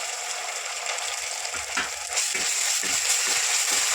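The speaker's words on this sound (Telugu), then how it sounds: "అల్లం వేసుకొని మంచి కొంచెం బ్రౌన్ కలర్ వచ్చేదాన్ని ఫ్రై చేసుకున్నాం." Ginger paste frying in a pan for a village-style tamarind-leaf chicken curry, giving a steady close sizzle with a few scraping stirs, growing slightly louder partway through, with no talking.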